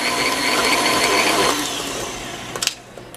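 Eggs for a carrot cake batter whirring in an electric blender, a steady loud motor drone that runs for about two and a half seconds, then cuts off, leaving a few light clicks and clatters.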